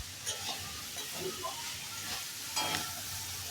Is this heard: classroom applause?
no